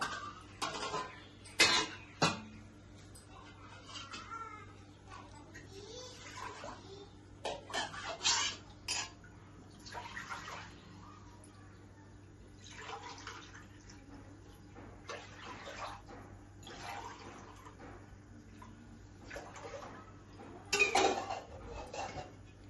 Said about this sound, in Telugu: 4 గ్లాసులతో వాటర్ వేసాను.